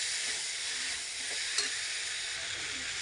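Spice masala sizzles steadily in hot oil for a rohu fish curry, a continuous close frying hiss with a faint stir around the middle and no talk.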